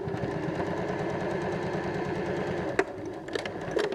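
A sewing machine runs a fast, steady stitching rhythm while top stitching a fabric strap for a knot bag, close and even, with a couple of small clicks as it slows near the end.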